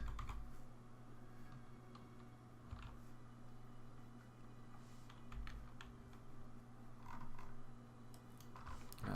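Computer keyboard keys tapped in scattered, irregular clicks during a Kerbal Space Program spaceflight session, faint and close against a steady low electrical hum.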